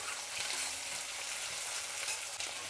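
Tomatoes frying in oil in a pan for a fish curry, a steady, even sizzle that stays close and constant throughout, with no voices.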